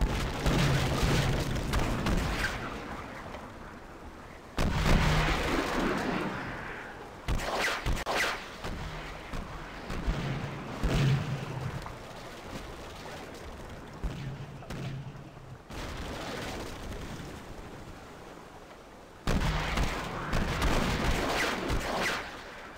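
Ship cannons fire in a naval battle in the video game Pirates of the Burning Sea: heavy booming volleys burst out roughly every few seconds, each rolling into a rumbling decay over a low background.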